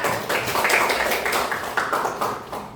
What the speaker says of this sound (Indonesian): Tepuk tangan sekelompok ya